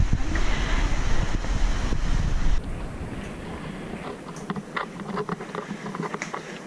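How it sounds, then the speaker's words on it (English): Middleham Falls in Dominica sends up a broad, continuous rush of falling water that is loud at first, then drops to a softer roar with scattered clicks and rustles nearby. "I can hear the waterfall, which is amazing."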